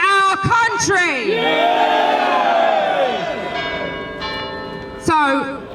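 Church bells ring loudly outdoors at a street speech in Dewsbury, a dense, sustained clang of overlapping tones with a person speaking over them.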